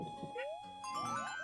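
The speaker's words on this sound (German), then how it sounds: "Oh, das ist ein Hund." Cartoonish dog yips and whines from the video game Yoshi's Crafted World, a few short rising tonal cries over game music, fairly loud and close.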